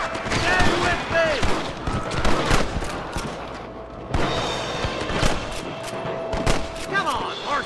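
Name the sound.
gunfire in a shootout in Red Dead Redemption video game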